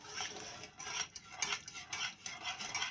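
A spoon stirs biscuit master mix batter in a bowl, making a soft, quiet scraping and clinking that repeats in a steady rhythm, heard close up with no talking.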